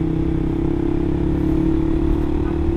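Suzuki GSX R150 motorcycle fitted with an R9 Mugello exhaust, idling and revving steadily with a deep, bassy, continuous drone close by, no talk over it.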